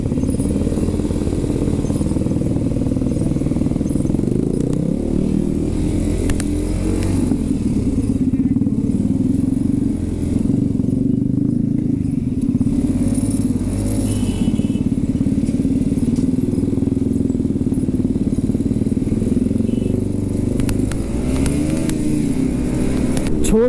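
A Yamaha R15 sports motorcycle cruises on a group ride toward Almora, its engine droning loud and steady throughout under heavy wind rush, with only slight shifts in pitch.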